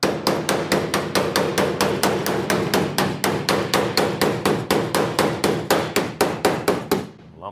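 Steady rapid hammer blows shaping the roof sheet metal of a chopped VW Bug top, about three strikes per second, loud and close, continuing evenly for several seconds before stopping abruptly.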